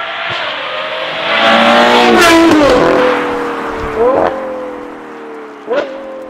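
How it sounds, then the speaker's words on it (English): A Ferrari Purosangue fitted with a Novitec exhaust system with sport catalysts and an X-pipe revs up loudly and close, the engine note climbing and falling, followed by two short sharp blips of the throttle. "So the best part on this whole car is the exhaust system."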